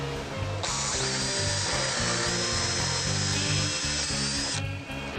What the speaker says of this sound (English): what I'm going to have to do is drill out the seat now to accept